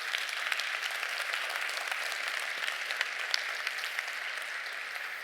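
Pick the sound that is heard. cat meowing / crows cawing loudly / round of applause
round of applause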